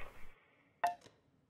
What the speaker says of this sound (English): That was dirt being thrown on the lid of a coffin.